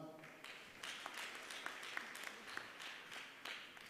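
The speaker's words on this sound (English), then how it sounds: "Clap for her." Audience clapping at a Study in Europe Erasmus information session at the University of Nairobi, a scattered, fairly quiet patter of hands with a few sharper individual claps and faint voices beneath.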